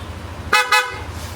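The stock horn of a Yamaha or Honda scooter, fitted with a horn selector, honks twice in quick succession: two short, loud, close-up toots with no talking.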